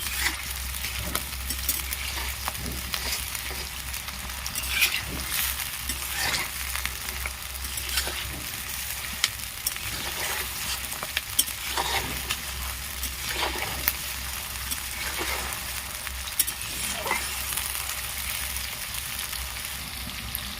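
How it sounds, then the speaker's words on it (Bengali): Onion and tomato masala for a Bengali chicken and potato curry is stir-fried in a pan, a continuous close sizzle broken by repeated scraping stir strokes, with no talk. "এগুলোকে ভালো করে একটু কষিয়ে নিচ্ছি।"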